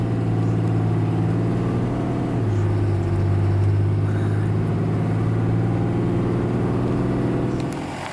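A truck drives on a paved highway, its engine droning steadily with a low tonal hum that shifts pitch midway, close and loud throughout before easing slightly at the end.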